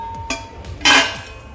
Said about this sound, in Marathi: कुकीज बनवण्यासाठी मी अशा प्लेट्स घेतलेल्या आहेत